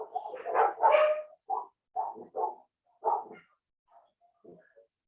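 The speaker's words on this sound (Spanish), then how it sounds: "mis perritos van a empezar a ladrar ahora" Small pet dogs bark indoors, a cluster of sharp yips and barks at first, then spaced single barks fading to a few faint yelps, with no talk over them.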